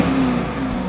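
A BMW X7 engine revs shortly after a cold start, giving a steady, loud, close mechanical drone with a slight pitch dip midway through the brief moment.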